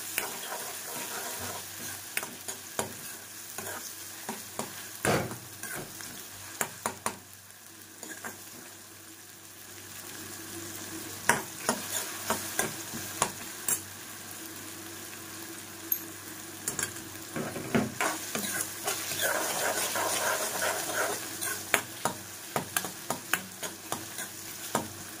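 Pithla, a gram-flour dish, sizzles steadily in a pan while a spoon stirs and scrapes it in frequent sharp strokes, close and fairly loud, with no voices.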